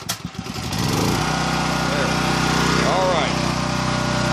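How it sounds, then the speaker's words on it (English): A Champion dual fuel portable generator started on propane and running steadily from a nearby tank, its engine drone loud and constant after a brief startup, with a short spoken remark over it. "So now she started up on propane, and she's running off of that tank right there, and she actually sounds a little quieter."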